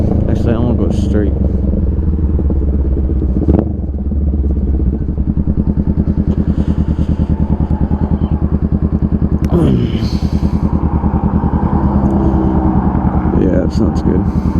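A Honda Rebel 500 motorcycle with an aftermarket DBK exhaust rumbles loudly up close with a deep, throaty note, revving up and settling back with crackling pops, as a voice speaks briefly over it.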